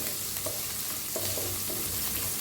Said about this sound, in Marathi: छान असं भाजून घेऊया आता छान भाजायला लागलेत बघा